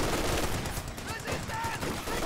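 An M1919 machine gun rattles off dense bursts in the video game Company of Heroes 2, mixed with scattered battlefield gunfire and noise, continuous and fairly loud.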